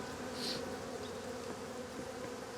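Honey bees buzz in a steady, close swarm around a caged queen bee, a continuous droning hum with no voices.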